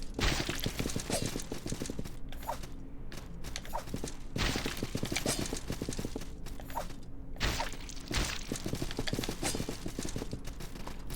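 Hooves of a horse in the video game Salt and Sanctuary, a steady, busy clip-clop running the whole time at even loudness, mixed with dense game clatter and no voices.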